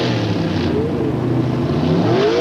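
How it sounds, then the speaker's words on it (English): Drag racing cars, an Oldsmobile and a Chevrolet, idle into the staging beams at the 1985 NHRA Gatornationals, a loud continuous engine drone with rising revs and whining tones, close and unbroken. "Idling into the staging beams and lots of RPM, and Gordy Rivera with a tremendous hole sho"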